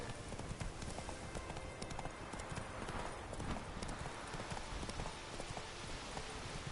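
Hooves pound rapidly as a horse gallops in The Witcher 3, a continuous close drumming over a dense, noisy game background.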